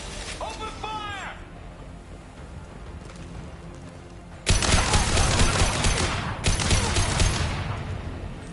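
Sustained bursts of automatic gunfire from a firefight in the video game Mass Effect 2, loud and dense, starting abruptly midway and coming in two long volleys after a stretch of quieter game sound.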